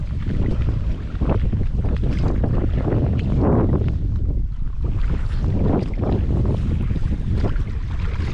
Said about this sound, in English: Wind's changed direction again slightly.